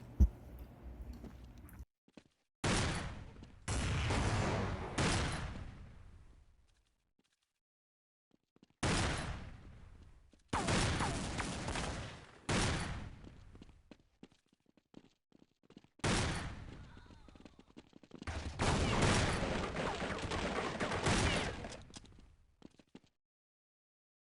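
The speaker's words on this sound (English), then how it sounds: "Let me show you an old clip of the M24 in action." M24 sniper rifle fire in Counter-Strike Online, a video game: several bursts of loud, sharp gunfire in separate clusters with quiet gaps between them, close and with no voices.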